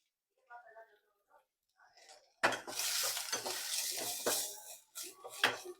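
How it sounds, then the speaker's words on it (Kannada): Green chillies and onions hit a hot pan with a sudden loud sizzle that holds as a close, steady crackle under stirring clatter, preceded by a few seconds of soft speech. "ಮೆಣಸಿನ್ಕಾಯಿ, ಈರುಳ್ಳಿ ಎರಡು ಒಟ್ಟಿಗೆ ಹಾಕ್ತಾ ಇದ್ದೀನಿ"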